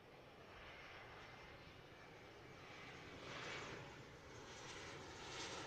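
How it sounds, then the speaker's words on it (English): A Boeing 767 airliner taxis at Zurich airport, a faint steady jet engine roar heard from a distance that swells slightly midway, with no talk. "Okay, the 767 is now taxiing."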